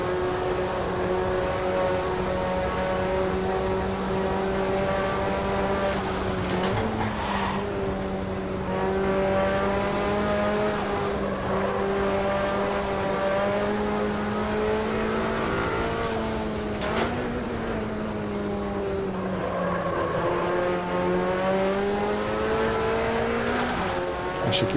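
A racing car in the Automobilista 2 sim drives past with a loud, steady engine whine that rises and falls through gear shifts, heard close and continuously with no talk.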